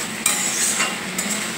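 A spoon stirs taro and katla fish curry frying in a pan, with a steady sizzle and a few soft scraping strokes against the metal, close and fairly quiet.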